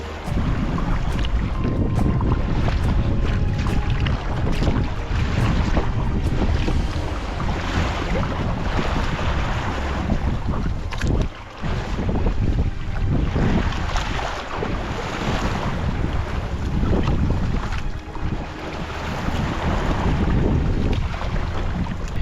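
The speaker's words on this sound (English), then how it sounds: "We've got the current pushing us and the wind pushing us" Strong wind on open water during an evening kayak paddle back from the New Point Comfort Lighthouse, buffeting the microphone in a loud, unbroken roar over the wash of waves, with no talking.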